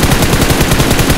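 Rapid, loud, continuous automatic gunfire from a video game, a dense stream of shots that fills the whole short stretch without a break.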